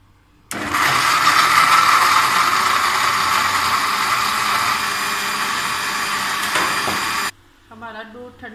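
Juicer machine blending Japanese persimmon with a glass of milk, a loud steady motor whir that starts abruptly, runs for about seven seconds and cuts off, followed by brief faint sounds.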